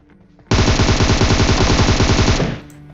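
A shooter video game fires a loud, rapid burst of automatic gunfire, about two seconds of close, dense rattling shots that cuts off abruptly.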